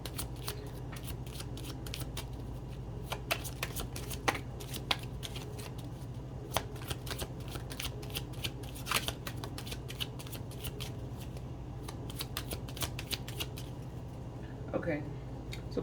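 A tarot deck is pre-shuffled by hand in a steady run of crisp card riffles and flicks over a low background hum, close and fairly loud throughout.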